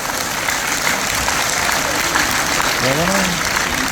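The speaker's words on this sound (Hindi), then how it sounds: "एक बार मैं चाहूंगा इस पवित्र बिजनेस के लिए जोरदार ताली हो जाए।" A seated audience at a network-marketing business talk gives loud, sustained applause, with dense clapping throughout and a voice briefly rising over it near the end.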